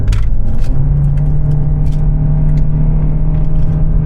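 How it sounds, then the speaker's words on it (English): A Hyundai Tucson with a GDI engine drones steadily at full throttle on a highway, a loud, constant low rumble with engine hum and road noise that never builds into a clear rise in pitch. "I'm out on the highway and I'm just gonna punch it."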